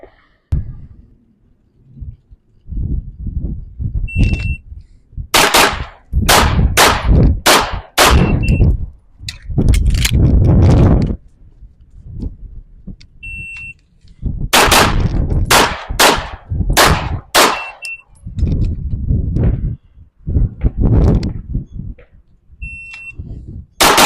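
A JWC Prodigy Elite pistol fires at a range in sharp, loud bursts of rapid shots, separated by pauses, with a beeping timer tone marking each string.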